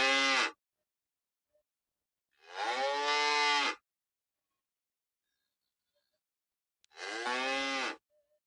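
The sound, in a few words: cow mooing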